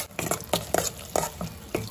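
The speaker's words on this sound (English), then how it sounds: "Now cook this, stirring it continuously till the masala releases oil." Masala fries in a pan on the stove, with a sizzling hiss broken by sharp, irregular scrapes and clacks of stirring, close and clear with no voices.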